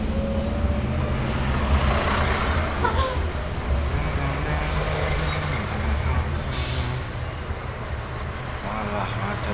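A jammed road with stopped buses in Bojongsoang, Indonesia, fills the air with a dense rumble of idling engines and traffic, and an air-brake hiss bursts out partway through, all loud and close.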